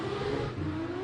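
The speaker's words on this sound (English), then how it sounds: "Something monstrous just took off next to us, Arnie." A Nissan-powered hillclimb race car launches away at the Simola Hillclimb, a brief deep revving engine note close by, rising slightly in pitch as it accelerates.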